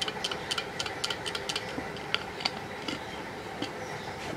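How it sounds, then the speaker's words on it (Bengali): A spoon stirs medicine into duckling feed in a container, giving a steady run of light, close, scraping taps and clinks against a faint background hiss. "এই চামচের সাহায্যে এভাবে নেড়ে ছেড়ে দেবো"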